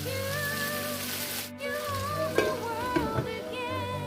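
A covered pot of smoky yam pottage simmers with a steady soft bubbling hiss, with a few small pops and clicks near the end under a faint tonal hum.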